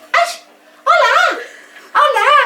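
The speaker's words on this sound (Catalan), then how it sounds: "aquest és el nostre gosset, el Tao," Small dog barking three times in close, loud, whiny yips separated by brief pauses.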